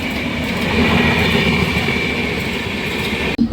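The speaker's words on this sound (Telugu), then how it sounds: "సో చూడండి ఏదో ట్రైన్ అయితే వెళ్తుంది" A Visakhapatnam–Lokmanya Tilak Terminus (Mumbai) express train rumbles steadily past at close range, a loud continuous roar of wheels and carriages that cuts off abruptly near the end.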